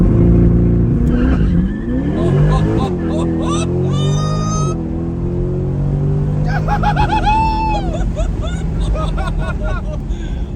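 A C8 Corvette fitted with an AWE Track Edition exhaust launches hard, its engine note climbing loudly through repeated revs as the tires fight for grip, with voices talking over the roar.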